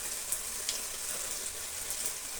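Black sesame sweet triangles deep-fry in hot oil with a dense, steady sizzle and occasional brighter pops, heard close-up without voices.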